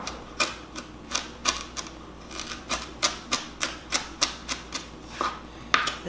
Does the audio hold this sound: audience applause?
no